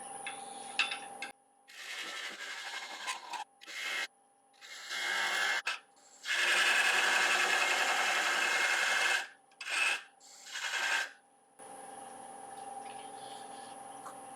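Monkey puzzle wood spins on a wood lathe at about 650 RPM while a 10mm beading and parting tool cuts it, giving bursts of harsh rasping scraping separated by short silent pauses and a steady high motor whine throughout.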